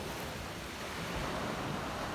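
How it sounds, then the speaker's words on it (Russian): Sea surf washes onto the shore at Chakvi near Batumi in a steady, soft roar, blended with wind noise across the microphone; no voices. "И вот оно, море."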